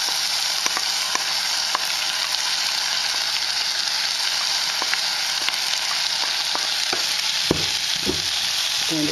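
Rice and dal mixture sizzles steadily in hot oil with spices, with repeated scraping strokes of a stirring utensil and sharp pops, close and continuous without talk.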